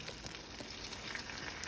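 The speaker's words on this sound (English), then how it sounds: "I'm just frying 2 eggs that we're going to add later into the rice." Two eggs fry in hot oil in a pan, giving a soft, steady crackling sizzle with small pops throughout, fairly quiet and close.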